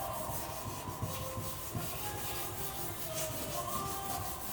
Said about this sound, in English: just helps it sand easier when you do it like that